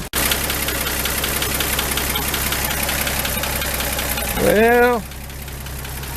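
A car engine idles steadily with a knocking, ticking rhythm after being restarted, running continuously throughout, with a brief voice and a short rising tonal sweep near the end.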